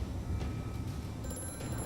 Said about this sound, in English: I am not answering that phone.